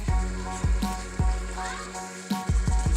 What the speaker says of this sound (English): Be sure you stir your hamburger and your onions and stuff so it all gets mixed up good.